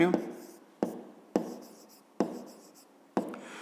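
Pen or pencil writing a measurement by hand on paper during a school maths exercise, five distinct stroke bursts each starting sharply and fading, close and clear with no talking.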